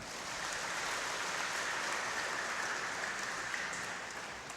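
Sustained crowd applause from a church congregation honoring the Virgin Mary at a Mass for the Solemnity of the Immaculate Conception, a dense steady wash of clapping that holds evenly throughout with no talk.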